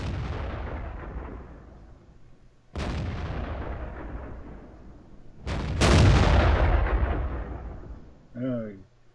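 Tank cannon shots in World of Tanks from a Tiger P, a Tier 7 German heavy tank, firing at an E8: three loud booming blasts with long rolling decays, a short electronic blip at the end.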